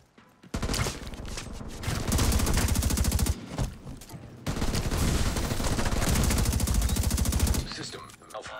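Rapid automatic gunfire rattles in long sustained bursts during a PvP match in The Division 2, loud and close, with a short pause between the two main volleys.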